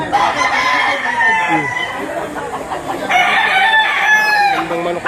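Roosters for sale at a poultry market in Lipa, Batangas crow loudly several times in overlapping bursts, with clucking and faint voices in the background.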